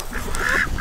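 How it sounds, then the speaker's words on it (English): Cayuga ducks quacking nearby in a farmyard, a quick burst of raspy honking calls that stands alone and close. "These goofy ducks."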